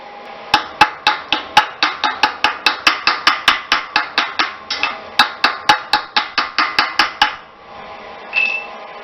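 A chipping hammer knocks slag off a fresh weld on a dump trailer repair, a fast run of sharp metallic clinks, about two dozen strikes in steady rhythm, close and loud, then a brief scrape.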